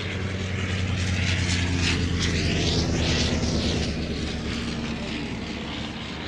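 A vintage aeroplane flies over the Shuttleworth race day air show, its propeller engine droning loud and steady throughout with no pauses and no voices.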